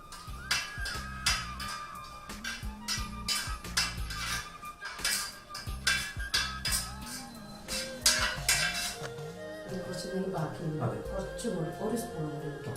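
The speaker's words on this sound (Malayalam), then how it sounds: "ഇതിലേക്ക് ഇനി അണ്ടിപ്പരിപ്പ് നമുക്ക് ഇട്ട്" Cashews and raisins roast in ghee in a metal pot, with a spoon clinking and scraping against the metal in a steady run of sharp taps and stirring clatter, heard close up.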